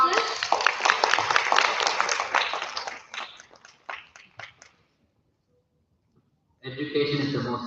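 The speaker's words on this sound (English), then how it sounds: "Let's give these youth leagues a fantastic round of applause for all that they've accomplished." Audience at a community youth event clapping for youth leagues: loud, dense applause that thins into scattered individual claps and fades to silence, then a speaking voice returns at the end.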